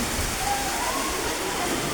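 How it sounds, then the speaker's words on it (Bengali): Heavy rain pours down in a dense, steady roar close by, loud and unbroken for the whole stretch. "এই দেখেন প্রচণ্ড বর্ষণ হচ্ছে, ভারী বর্ষণ হচ্ছে, ভারী বর্ষণ।"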